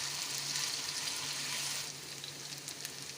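Potatoes frying in a pan for aloo gobi, a close, steady hiss of hot oil that eases slightly toward the end, with faint clinks of stirring.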